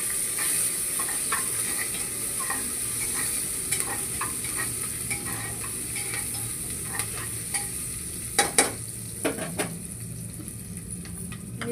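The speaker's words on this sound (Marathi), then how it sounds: "आता आपण हे मिरची टाकणार आहोत, त्यामध्ये स्टर करून घेणार आहोत" Chillies are stirred into a hot, sizzling pan for vatana pulav. A steady, close frying hiss carries throughout, broken by light stirring scrapes and a few sharper utensil clinks near the end.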